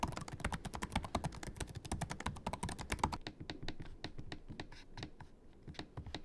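Rapid laptop keyboard typing, a dense run of light, clicky keystrokes that thins into sparser taps toward the end, close and fairly quiet.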